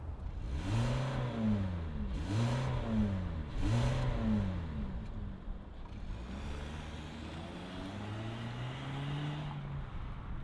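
A 2025 Kia K4 GT-Line with a turbo engine starting and revving, three rising-and-falling revs at moderate distance followed by a smoother climbing pull as the car sets off.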